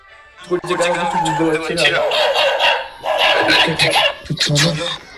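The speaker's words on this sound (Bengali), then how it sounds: "এখনই বাইরে কুকুরগুলো কাঁদছে," Dogs outside at night howl and bark in long, loud, wavering cries that run almost continuously, with brief gaps and overlapping yelps.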